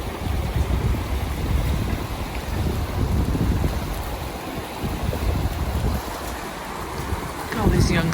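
Rushing river water around a hiker wading across The Narrows, a steady broadband wash with gusty wind noise on the microphone, continuous and close throughout.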